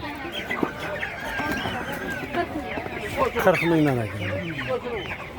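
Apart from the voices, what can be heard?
chickens clucking at a poultry market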